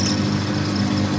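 A drill bores through a bronze bush on a lathe, producing a steady, loud machine drone and whirring hum with no break across the short stretch.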